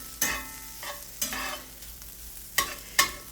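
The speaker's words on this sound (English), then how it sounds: "Pepper, salt, and I'm just going to mix them up." Salt and pepper being stirred into food in a pan on the stove, with four distinct scraping strokes spread across the clip over a faint background sizzle, close and fairly quiet, with no voices.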